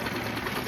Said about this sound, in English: let's just let that run and fill up the tank a bit. Actually, we'll let it tick over.